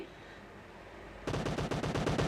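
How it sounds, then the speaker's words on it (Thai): Distant ambience gives way to a sudden burst of loud rapid gunfire in the battle royale game PUBG Mobile, the shots coming in a quick rhythmic string with no talk. "เสียงปืนดังขึ้นแล้วค่ะ แปลว่าอีกฝ่ายกำลังเริ่มปะทะกันแล้วค่ะ"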